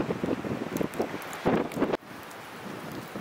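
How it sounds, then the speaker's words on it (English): Gusty wind during a coastal nor'easter squall buffets the microphone in uneven surges with a rushing, rain-like hiss, then eases abruptly partway through. "Yeah, the winds can get a bit gusty."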